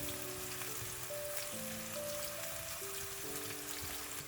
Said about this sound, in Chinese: 炒出香味